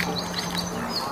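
Quacking of a duck in the video game Jurassic World Evolution 2, a few short calls repeating at a steady pace over a constant low hum of game background noise.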